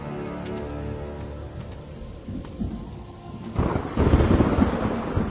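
A thunderstorm with rain: a low, rolling rumble of thunder builds steadily, then a heavier burst of thunder and rain noise surges up over the final seconds, with no voices.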